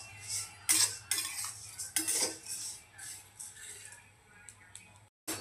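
Dals being dry-roasted on low heat in a pan for chakli bhajani flour get stirred with a spatula, giving scattered scraping and clinking strokes of varying loudness over a low hum, pausing briefly near the end.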